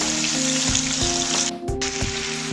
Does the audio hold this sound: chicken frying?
yes